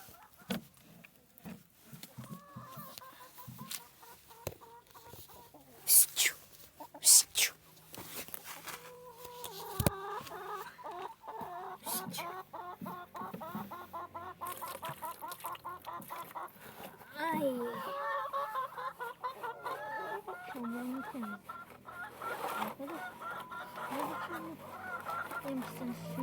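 Village chickens cluck and squawk steadily during their morning feeding and watering, with scattered louder calls and a person talking nearby, fairly faint and spread through the whole stretch.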